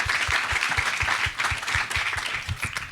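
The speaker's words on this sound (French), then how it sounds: "Clémentine qui est en Argentine, je peux l'applaudir." Audience applause at a conference awards presentation, dense steady clapping from a crowd throughout, close and fairly loud.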